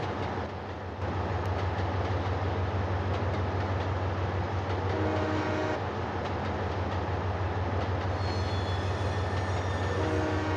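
A train in the Trainz Simulator game on Android rolls steadily with a loud, continuous low rumble and wheel noise, while horn-like tonal blasts sound briefly near the middle and again at the end.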